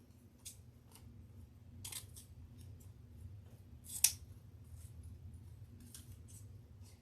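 Scissors snip at a bee-themed deco mesh wreath in a few quiet, sparse cuts, the sharpest one landing about midway, over a low steady room hum.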